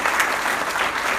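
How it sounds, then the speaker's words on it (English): Short burst of steady applause from a small group at a jiu jitsu blue belt promotion in an Alvarez Jiu Jitsu gym, Arlington, Texas, clapping close and dense throughout without a pause. "Round of applause there just for that"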